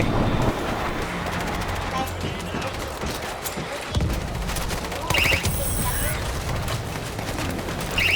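Video game gunfire crackles in rapid bursts and scattered shots amid a dense, noisy battle against a huge zombie horde, with a few sharp booms.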